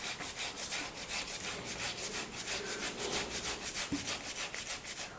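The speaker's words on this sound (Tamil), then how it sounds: "இந்த மாதிரி காய் துருவுறதில் துருவி எடுத்துக்கலாம்" Boiled potatoes are rubbed over a vegetable grater in a steady rhythm of quick scraping strokes, close and fairly soft, with no talking.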